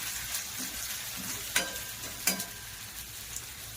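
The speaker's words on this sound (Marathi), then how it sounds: "आला लसूणची पेस्ट टाकली आहे कढीपत्ता टाकला इकडे मस्त मस्तपैकी थोडंसं परतून घेऊया" Asafoetida, ginger-garlic paste and curry leaves sauté in hot oil in a pan, a constant close sizzle broken by two brief scrapes of a stirring spoon.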